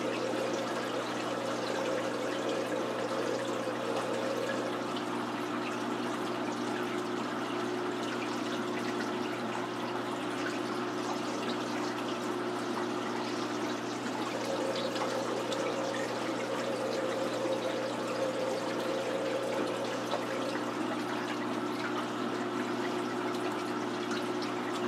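Water being siphoned out of a 125-gallon planted aquarium, a constant soft rush and trickle running through a hose and pouring steadily for the whole stretch, fairly quiet and with no speech.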